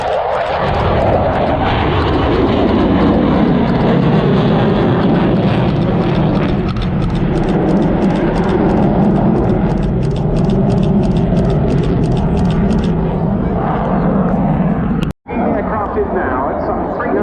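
A Dassault Rafale fighter jet flies a display at the RAF Cosford air show, its loud continuous engine roar building and then fading, with a commentator talking over the noise.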